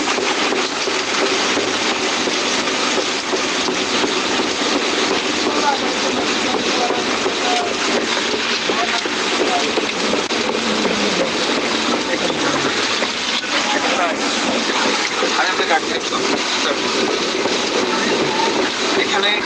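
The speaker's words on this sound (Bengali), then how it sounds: "ট্রেনের ভিতরে" Steady, loud rumble and rattle inside a moving Sealdah–Ajmer Express passenger train in India, continuous throughout with faint voices in the carriage.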